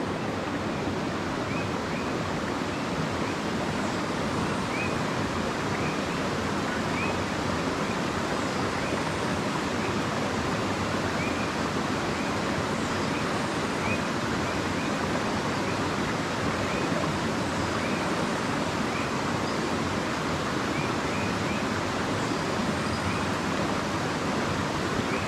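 A stream in a rainforest rushes with a dense, steady wash of flowing water, loud and unbroken throughout, with no voices.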